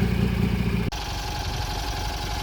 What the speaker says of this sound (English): Got a cool sound to it. Opposed twin flathead. Even with the factory muffler on.